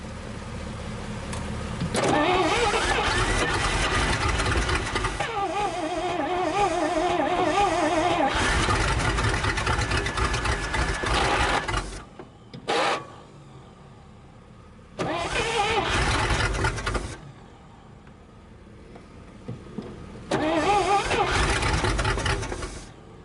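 An old 1962 Dodge 100 truck engine, first started in 25 years, idles roughly up close, its rumble shifting as the throttle rises, with someone talking over parts of it and brief quiet gaps.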